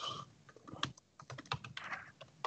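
Rapid, uneven keystrokes on a computer keyboard, close and fairly loud, in short bursts with brief pauses and no talking.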